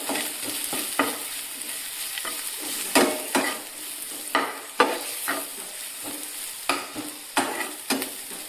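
Dried anchovies frying in a spiced curry base with garam masala, stirred repeatedly with a spatula, giving a steady sizzle broken by sharp, regular scraping strokes against the pan.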